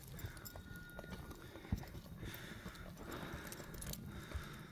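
A stallion's hooves clip-clopping as it is led around, faint irregular thuds under a noisy outdoor background.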